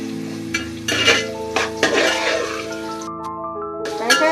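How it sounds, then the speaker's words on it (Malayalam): Bitter gourd pickle frying in a pan is stirred in several distinct clattering strokes over a soft sizzle, with sustained voiced or tonal sounds running underneath. "ഇനി കുറച്ച് സമയം കൂടെ ഇതിങ്ങനെ ഇളക്കിക്കൊണ്ടിരിക്കണം."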